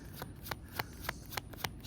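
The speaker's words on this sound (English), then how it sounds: "these cards do not want to" Tarot cards are shuffled by hand in a quick, close riffling patter of soft flicks and slaps, steady throughout with no talking.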